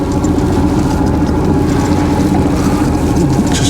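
A boat's steady low engine idles continuously at close range off a beach on the Jurassic Coast, a constant rumbling drone with no voices over it.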